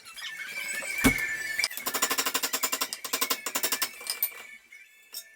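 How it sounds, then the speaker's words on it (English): Sharp metallic clanks, one loud ringing strike followed by a fast series of rapid repeated hammer blows on a wrench, close up, during a Geo Metro brake job. "that last hit with the hammer was enough to break that bolt off"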